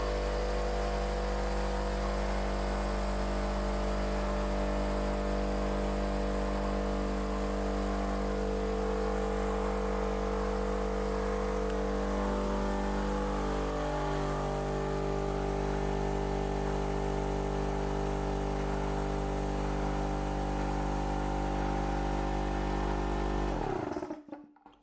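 A homemade vacuum pump converted from an air compressor runs with a loud, steady motor hum and drone, its pitch shifting slightly midway, continuing for about twenty-four seconds before stopping abruptly.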